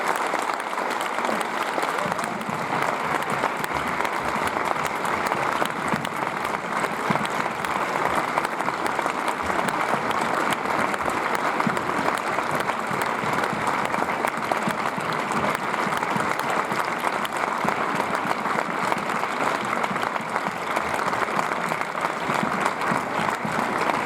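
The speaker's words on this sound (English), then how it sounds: "So please, crew, come up here on stage and give them a big applause." Audience applause after a festival film screening at the Berlinale, with a theater crowd clapping continuously and densely for the whole stretch, loud and steady without pause, a faint murmur of voices underneath.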